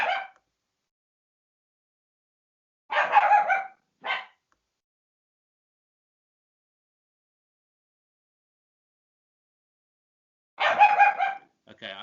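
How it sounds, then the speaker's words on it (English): A dog barking in short bursts, first a brief yelp, then a cluster of barks with a single follow-up, then silence before another burst near the end, fairly close and loud with no talk around it. "My dog has heard another dog barking, so it's woken him up and he's gone mad."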